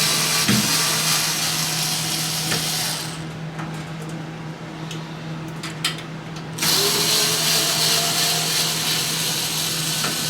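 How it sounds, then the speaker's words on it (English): A power screwdriver whirs loudly close by as it backs screws out of the bottom cover of a Breville Smart Oven, pausing briefly in the middle with small metallic clicks before the steady whir resumes. "Get the last two screws out, and then this bottom cover will lift off."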